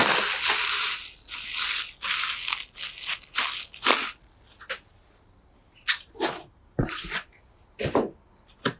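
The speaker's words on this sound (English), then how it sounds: "Continue to pull off the packaging here." Plastic wrapping and packing material pulled and torn off a new 2025 Mobility Pursuit 2 scooter, a series of close, crinkly rustles and ripping bursts separated by short pauses.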